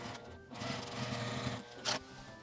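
A sewing machine runs a line of edge stitching along the folded opening of a small fabric shoulder tote, a close, steady mechanical whir with a brief sharper clack near the end.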